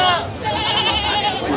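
Etawa crossbreed goats at Pasar Legi Munjungan livestock market in Trenggalek let out wavering, nasal bleats up close, overlapping with a person talking and busy market noise.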